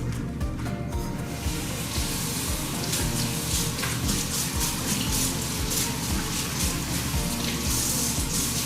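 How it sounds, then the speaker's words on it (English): Cloth rinsed by hand under warm running water at a kitchen sink, a steady close hiss of tap flow with soft splashing and sloshing throughout, no voices. "All you have to do is take it to your kitchen sink, run under warm water, and rinse to get it all out."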